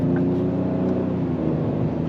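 2025 Ford Explorer ST twin-turbo AWD SUV accelerating hard through its 10-speed automatic, a loud steady engine drone heard from inside the cabin.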